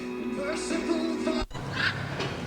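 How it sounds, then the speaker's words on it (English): Birds honk and squawk nearby in a courtyard in Mexico in a few short calls over a steady background hum. "These are birds that they have right here in this courtyard."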